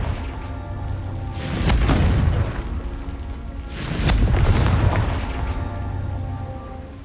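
Two booming blasts from a Confringo fire spell in the Hogwarts Legacy game, each swelling and rolling off over a few seconds with a steady low rumble between them.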